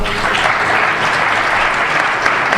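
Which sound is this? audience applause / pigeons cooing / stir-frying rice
audience applause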